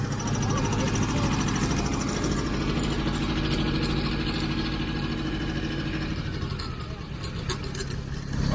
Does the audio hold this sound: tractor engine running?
yes